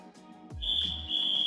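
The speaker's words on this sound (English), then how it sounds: "listening and waiting for the whistle" A referee's whistle signals the start of a climbing round at a bouldering semi-final: a single loud, sustained shrill blast follows a brief low thump, with faint crowd noise behind.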